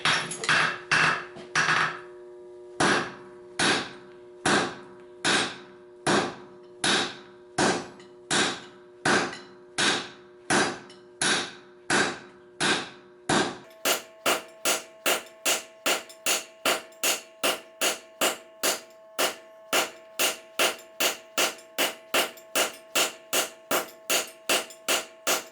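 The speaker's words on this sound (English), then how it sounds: "I'm going to forge down here behind the forks on the horn of the anvil with the round face of my hammer" A blacksmith's hammer, round face down, strikes hot steel on the horn of an anvil while forging a fork, ringing blows at a steady pace that quicken to a rapid rhythm in the second half, close and loud, with no voices.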